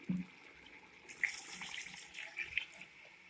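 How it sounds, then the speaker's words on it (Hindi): Water is poured into a cooking pot of chicken and vegetables for pulao, a moderate steady pour with small splashes, heard close without talk. "इस स्टेज पे मैं इसके अंदर पानी ऐड करूंगी।"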